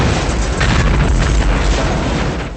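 A grenade explodes in a film about an alien creature, producing a loud, heavy, sustained boom with deep rumble that fills the whole stretch and fades slightly at the end.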